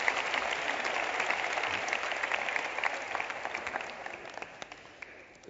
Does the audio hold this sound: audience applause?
yes